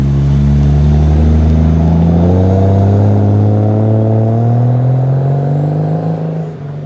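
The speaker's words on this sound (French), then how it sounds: "La Supra s'en va, magnifique voiture" A Toyota Supra sports car driving away at a car-spotting scene in Gérardmer, its engine loud and droning with rising, shifting tones as it pulls off, then fading slightly at the end.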